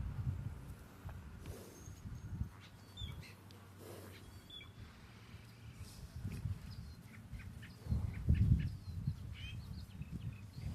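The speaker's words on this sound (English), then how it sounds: "The birds are chirping happily." Faint, scattered bird chirps float over a quiet outdoor afternoon, with a low rumbling background and occasional soft rustles and thumps nearby.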